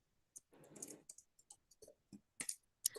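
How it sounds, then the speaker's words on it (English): Quiet computer keyboard typing with scattered irregular clicks and short bursts, close by and faint, with no talking. "Sorry, I'm typing."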